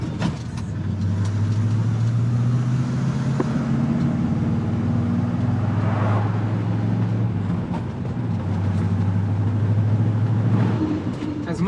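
An old truck drives along a road, its engine droning steadily with a low hum that shifts pitch as it changes gear, close and continuous, while a person talks intermittently over it.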